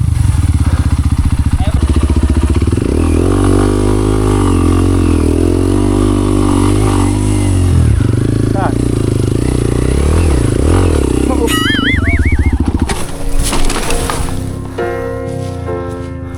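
A trail motorcycle labors up a steep mountain path on a hardcore moto trail challenge, its engine loud and close with shifting revs and clatter, then fading as other sounds and voices take over near the end.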